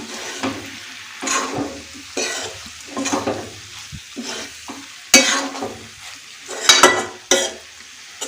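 A cauliflower side dish sizzles in oil in a pan as a ladle stirs it in repeated scraping strokes, each one a short burst of loud frying over a quieter hiss.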